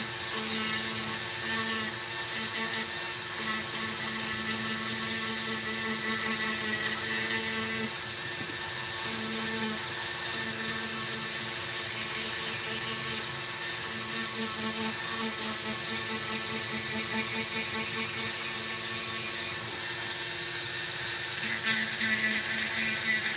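A rotary tool spinning a Cratex wheel at 15,000 RPM while polishing polymer with light pressure, giving a steady high-pitched whine that stays constant throughout with no talking.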